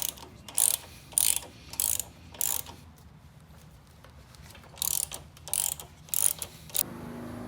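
Ratchet with a 12mm socket loosening brake caliper bolts on a Honda CB1100 motorcycle's front wheel, two bursts of quick clicking separated by a quiet pause, close and clear.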